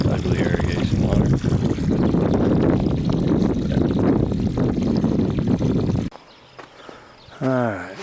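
Irrigation water pouring into a Skippy pond filter, a steady close splashing rush for about six seconds that then drops away, followed by quieter trickling and a brief voice.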